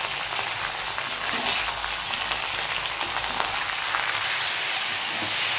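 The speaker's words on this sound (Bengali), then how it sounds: "নুন হলুদ দিয়ে এবার আমি এটা ভালো করে নেড়ে নিচ্ছি" Vegetables sizzle steadily in a hot pan with salt and turmeric while being stirred, a continuous close frying hiss with faint scraping, no voices.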